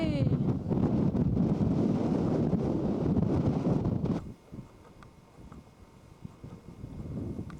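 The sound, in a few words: wind blowing at a mountain overlook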